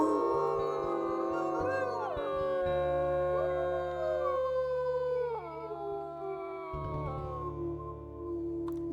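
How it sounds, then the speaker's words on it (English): Wolves in the video game WolfQuest Anniversary Edition howl while lying down: long, clear, overlapping howls that rise and fall in pitch, sustained and close with no talking. "I love when they lay down and howl."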